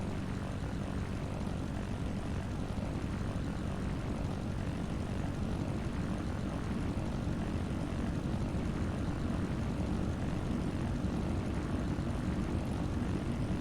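A Cessna's propeller engine in the Pro Pilot '99 flight simulator game drones as a steady, dense, unchanging roar throughout, loud and alone without speech.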